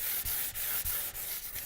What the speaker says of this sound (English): So we're using 180 sandpaper, and we're just going to give it a light sand.